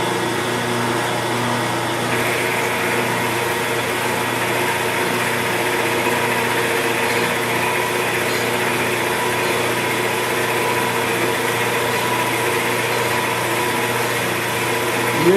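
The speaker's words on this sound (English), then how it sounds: "cobalt roughing end mill, I'm just going to run it through." A milling machine cuts steel with a Niagara cobalt roughing end mill at a ten-thousandths depth, giving a steady, continuous machine drone and hum that holds evenly throughout.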